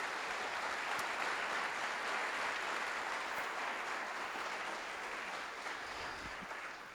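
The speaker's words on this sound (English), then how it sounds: "So if we can just give her a quick round of applause." An audience of parents at a school evening meeting claps steadily in a dense, even round of applause, fairly distant in the room, tapering off slightly toward the end.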